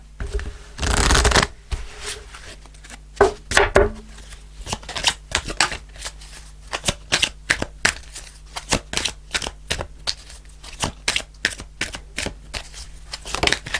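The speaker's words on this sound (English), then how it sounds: "let's pull a spirit message card" Tarot cards are shuffled close by: a brief rush of riffling near the start, then a long run of crisp, irregular slaps and flicks as the deck is cut and mixed by hand, with no talking.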